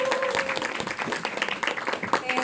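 Applause from a seated lecture audience welcoming a speaker, dense steady clapping mixed with scattered cheers and murmuring voices across the whole stretch, fairly loud and continuous.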